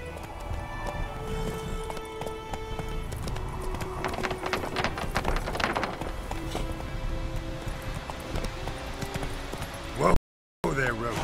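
Roach, a horse in The Witcher 3, gallops with steady clip-clopping hooves under game music and a voice, ending in a brief loud burst.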